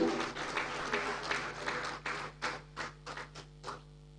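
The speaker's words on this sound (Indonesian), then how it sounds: "Bapak Ibu boleh kita berikan tepuk tangan" An audience claps during a plaque presentation at an Indonesian civic ceremony, a modest round of applause that starts fairly full and thins into scattered, separate claps as it fades out, over a faint steady room hum.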